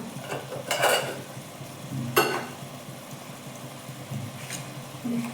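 Country chicken is stirred with salt and turmeric in a pot: a few distinct scraping strokes of a spoon against metal, close and irregular, over a faint low sizzle, with no talking.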